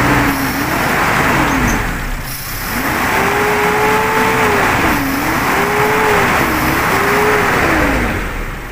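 A cold CNG-fuelled car engine revved repeatedly, the pitch rising and falling in several loud swells over a rough, steady running note.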